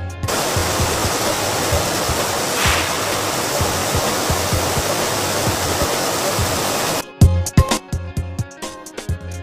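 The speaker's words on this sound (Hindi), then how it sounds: "इस सिस्टम में गेहूं को साफ पानी से धोया जाता है" A wheat washing system rinses grain with clean water, a steady loud rushing roar of flowing water that cuts off abruptly, leaving a series of irregular clattering knocks and thumps.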